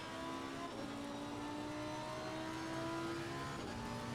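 A race car on slick tires drives a rubbered racing line on a rain-wet track, its engine a steady, loud drone that slowly climbs in pitch, with no talk.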